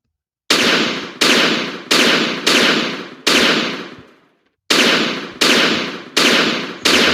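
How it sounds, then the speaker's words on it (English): Video game dynamite shots boom in a loud, sharp string of blasts at roughly half-second intervals, each decaying quickly, with one longer fading blast and a brief pause before the volley resumes; no talk. "that's shooting way too much"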